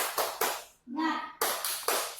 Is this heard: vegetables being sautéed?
no